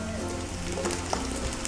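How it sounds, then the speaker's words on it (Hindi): Grated onions hitting hot oil for Punjabi chole make a continuous close sizzle with a faint crackle, brief and steady with no talking. "हुण मैं प्याज पा दांगी कद्दूकस किए हुए"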